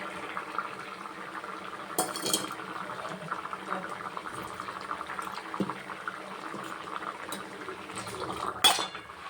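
A mixed vegetable curry of potato, eggplant, bitter gourd, carrot and flat beans boils steadily in a pot, a soft continuous bubbling with a few faint clinks of utensils, no talking.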